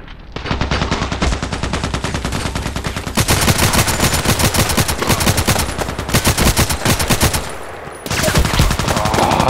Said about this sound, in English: Why is he still shooting at me?